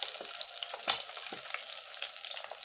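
An egg fries in a pan for a gobhi anda kadhi, giving a steady bright sizzle with soft crackles and a few low knocks from stirring, close and alone without voices.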